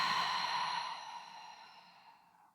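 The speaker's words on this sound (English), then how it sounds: "Open the mouth and exhale." A long, breathy exhalation out through the open mouth during a yoga breathing exercise, loud at first and then fading steadily over about two and a half seconds, with no talking.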